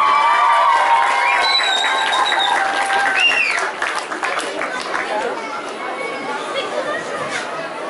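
An audience at a children's song festival claps loudly and steadily, the applause swelling near the start and then thinning a little, with crowd chatter and a voice or two mixed in.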